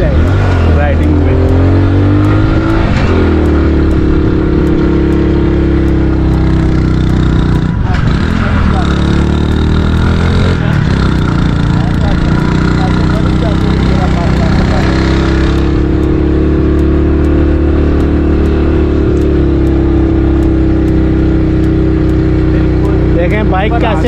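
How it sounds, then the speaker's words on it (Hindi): A motorbike drones loudly and steadily while being ridden on a hilly road near Islamabad, its engine note rising and falling with throttle changes amid heavy wind rumble, with someone talking over it. "देखें बाइक कैसे आवाजें ले रहा है।"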